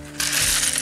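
Plastic Transformers toy parts pour out of a bag in a quick, bright clattering cascade, close and loud, lasting under a second with no talk over it.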